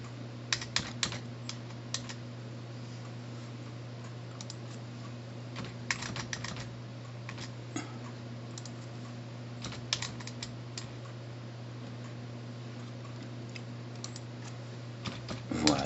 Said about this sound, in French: je vais ici sur toutes les bordures et je tape mes montants,